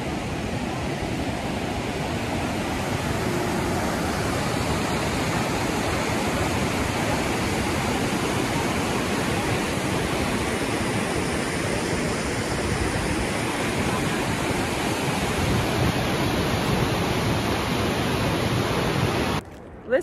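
A Yosemite National Park waterfall, the lower fall, roars steadily and loudly, a dense unbroken wash of falling water close by for the whole stretch.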